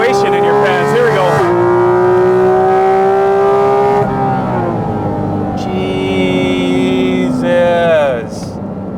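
A Porsche Cayman GT4 RS engine screams steadily upward in pitch toward its 9,000 RPM redline, loud and close, then shifts and climbs again before easing off near the end.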